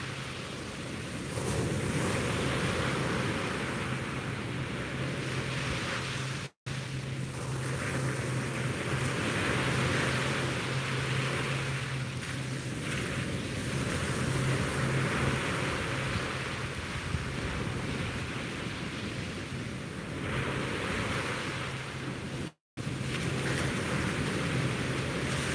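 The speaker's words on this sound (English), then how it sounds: "let's take one last minute here to enjoy this magnificent view and the sounds of those waves" Ocean surf rolling onto a beach at sunrise, a steady broad wash of breaking waves with gentle swells and some wind noise on the microphone, continuous and fairly close throughout.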